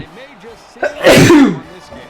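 A single loud sneeze bursts out briefly in the middle, after a voice commentating a college football video game, with quiet talk around it.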